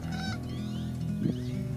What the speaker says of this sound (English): including this common moorhen.